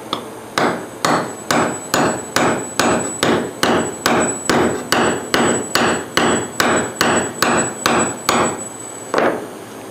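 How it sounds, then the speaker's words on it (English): A hammer drives a steel taper into a metal pipe in about nineteen loud, evenly spaced metallic strikes, each ringing briefly before the next blow, with no talking. "Now we're going to try to take this taper, stick it in here with this hammer."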